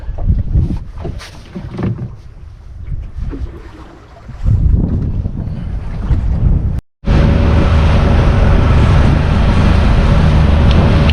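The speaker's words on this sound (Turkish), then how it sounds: "Hava patladı. Rüzgar terse döndü. Deniz bayağı bir kabardı." Heavy wind buffets the microphone while water churns and slaps at sea, then after a brief cut a louder, constant roar of strengthening wind and rough, swelling sea takes over.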